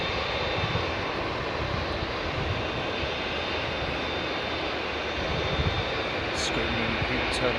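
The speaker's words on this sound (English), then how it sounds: "listen to this thing behind here. The sound of an airport at night." Steady, loud broadband roar of aircraft engines across Heathrow Airport at night, a continuous wash of jet noise with no clear gaps and a faint steady whine riding on top.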